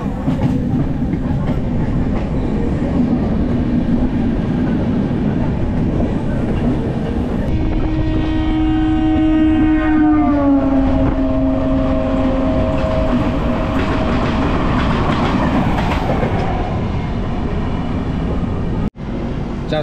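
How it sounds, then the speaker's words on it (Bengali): A Howrah to Puri passenger train runs with a steady loud roar and rail rumble, heard from on board, while a horn-like tone swells and then falls away midway. "ট্রেন ছাড়ছে"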